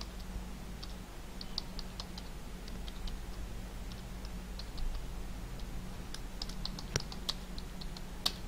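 Quiet bursts of typing on a computer keyboard, irregular clusters of light key clicks over a steady low electrical hum, with a few sharper taps toward the end.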